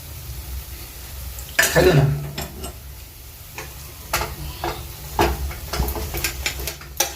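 A spoon stirring besan sheera with chopped almonds and coconut in a pan, giving irregular scraping ticks and soft sizzle, a few sharper knocks spaced across the stretch, close and moderately quiet.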